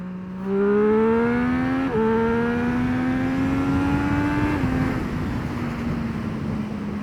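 A 2024 Triumph Street Triple motorcycle accelerating hard in second gear, its engine note rising loud and close through a short hitch before the throttle eases and the tone drops into a steady cruise with wind noise.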